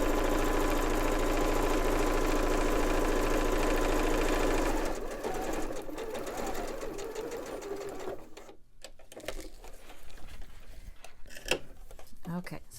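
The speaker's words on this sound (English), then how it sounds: "I've got my zipper foot in and I'm ready to sew that one side." A sewing machine fitted with a zipper foot stitches the side of a zipper pouch, running fast and steady for about five seconds before stopping. Quieter handling noises follow.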